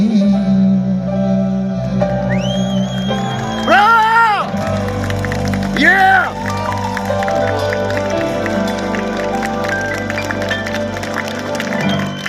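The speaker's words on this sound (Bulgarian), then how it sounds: "Тия аплодисменти са изцяло за вас." A live audience applauds and cheers after a song, with whoops and whistles rising through a steady, loud roar of clapping that fills the whole stretch.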